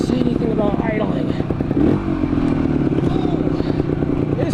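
A 1975 Yamaha DT250 dual sport motorcycle climbs a mountain trail, its two-stroke engine droning loudly and steadily with rattling and clatter from rough ground, and brief scraping sounds.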